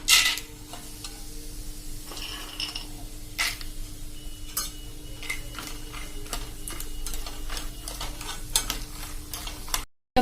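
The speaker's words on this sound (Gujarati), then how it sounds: "દાણા તેલમાં આવી રીતે રોસ્ટ કરી લેવાના છે." Peanuts roasting in oil over a medium flame for Gujarati chevdo, a soft continuous sizzle broken by frequent stirring scrapes and clicks of a spoon against the pan, ending abruptly.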